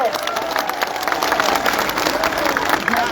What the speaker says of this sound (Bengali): আপুর জন্য জোরে করতালি